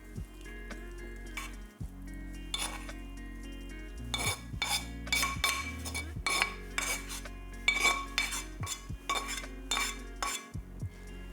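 Hot-smoked salmon fajita mix is scraped from a metal pan into a bowl, with close, repeated clinks and scrapes of utensil on cookware and a faint sizzle underneath.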